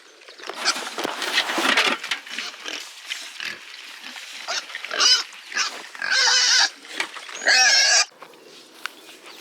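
Farm pigs grunt, squeal and oink repeatedly around a feeder, with louder shrill squeals in bursts amid shuffling and patter, close and busy.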